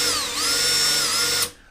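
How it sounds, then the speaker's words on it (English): A handheld power drill bores a hole with a loud, steady high-pitched whine that dips briefly, holds for over a second, then cuts off abruptly as the motor stops. "these drills, the chucks ain't the best"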